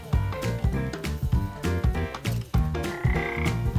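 Toads croaking in a natural wetland habitat, a dense chorus of repeated rhythmic croaks, close and loud, with no talking.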